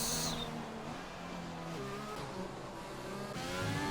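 A McLaren race car in a racing game, its engine note climbing and shifting through gears as it passes, fairly faint, with no voices over it.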